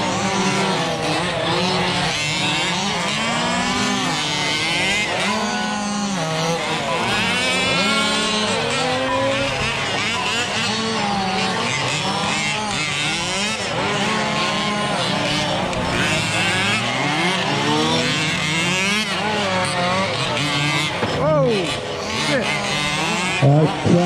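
Several Losi and Baja radio-controlled race cars run on an outdoor track at Wagner Park during an open-class qualifier, their engines whining and sweeping up and down in pitch steadily, with a voice talking over them.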